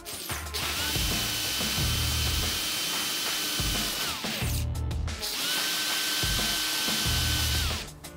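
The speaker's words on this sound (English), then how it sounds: "let's go ahead and use our 5/16 bit here and drill these holes out" A power drill with a 5/16 bit bores holes through a car's trunk lid during a Honda Civic sedan spoiler install, with loud whirring bursts, a brief pause between each hole and the motor winding down after each one.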